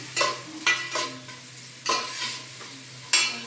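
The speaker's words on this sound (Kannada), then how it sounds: "ಈರುಳ್ಳಿ ಫ್ರೈ ಆಯಿತು." Onions fry in a pan for Maggi noodles while being stirred, a close sizzle broken by several scraping strokes of a utensil at irregular intervals, with no talk.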